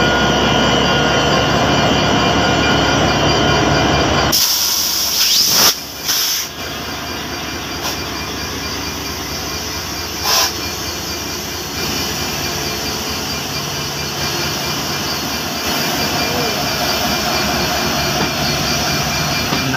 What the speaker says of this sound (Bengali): আমরা এই যে সাগরদাড়ি এক্সপ্রেস চলে যাচ্ছে এবং পাশে চিত্রা এক্সপ্রেস দাঁড়িয়ে আছে